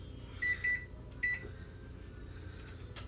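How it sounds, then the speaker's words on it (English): A kitchen timer beeps in two short double bursts followed by a single beep, clear and close over a low steady hum in a home kitchen. "Oh, there's my timer."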